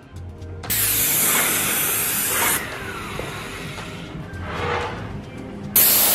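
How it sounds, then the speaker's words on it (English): Final coat of paint sprayed onto timber door and window shutters: loud hissing bursts from the spray gun, a long steady spray, a pause with softer hiss, then another sharp burst at the end, close by and without talk. "our last one's gonna get sprayed on now and we'll get it done"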